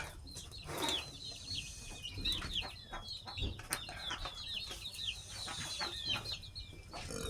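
Chickens cluck in repeated short bursts, close and lively, with rooster-like calls and a brief flutter of wings mixed in over a low farmyard background.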